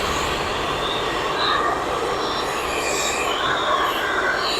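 Loud, continuous whooshing roar of a hair dryer blowing hot air onto a refrigerator door's rubber gasket, steady throughout with no breaks.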